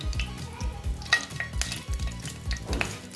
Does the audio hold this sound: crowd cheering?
no